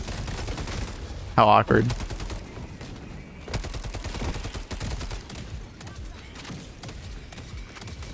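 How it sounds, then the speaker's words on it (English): An enemy's gun rattles in quick bursts of video-game gunfire, sharp shots scattered through the clip alongside a brief loud blast, with a person talking over it. "I think he's just shooting at a dead body of one of my teammates"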